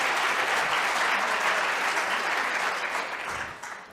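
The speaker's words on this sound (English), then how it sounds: "Applause for the two gentlemen." Conference audience in Vienna applauding at the opening of a citizen science conference: broad, sustained clapping from a large room that stays full and even, then thins and fades near the end.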